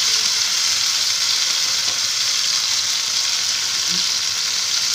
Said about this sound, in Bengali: এইভাবে আমি 2 করে মাছ ভেজে নেব।